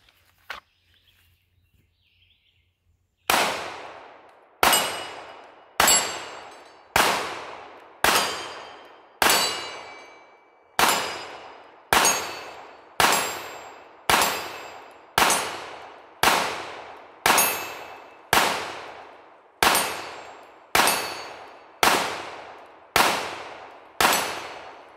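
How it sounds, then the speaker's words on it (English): Pistol shots ringing off steel targets outdoors, about nineteen loud sharp cracks each followed by a metallic ring, fired in a fairly steady rhythm after a short quiet start. "Love shooting steel."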